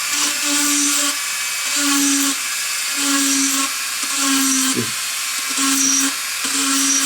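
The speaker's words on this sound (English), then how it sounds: "So just take the Dremel tool" A Dremel rotary tool drilling out gas grill burner holes whines in short, repeated high-pitched bursts, starting and stopping in a steady rhythm, loud and close.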